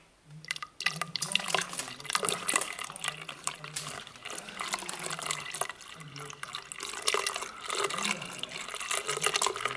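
Second liter of water poured from a container into a plant pot: a continuous splashing, gurgling stream with fluctuating trickles over close room ambience, lasting throughout.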